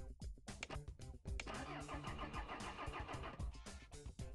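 Car engine cranking without catching in the mobile game Retro Garage, a few short bursts followed by a sustained churning starter whir that never settles into a running idle.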